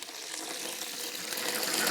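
A steady, hissing spray of water from a hose runs continuously and close while cleaning out a duck's water, growing slightly louder, with no voices.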